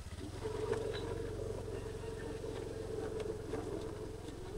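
Many motorcycles run along a rural farm road, a steady low engine drone with faint passing buzzes under a quiet voice talking.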